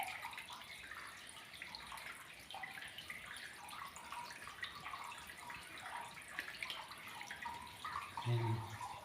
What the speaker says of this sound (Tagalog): Tubig dito, bro.